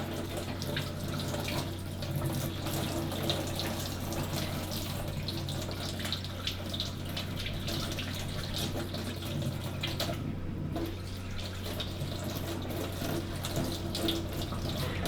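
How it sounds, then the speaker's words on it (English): Tap water runs in a steady, even stream through the water inlet filter of a Karcher K2 Compact pressure washer, close by, with a low constant hum underneath and no voices. "I'm just going to get some warm water, and I'm just running it through."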